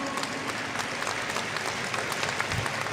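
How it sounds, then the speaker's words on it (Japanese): Audience applause at the final of a professional standard ballroom dance competition in Kyoto, a steady wash of clapping from a large crowd filling the room at moderate volume without a break. "皆様大きな拍手をお願いいたします。"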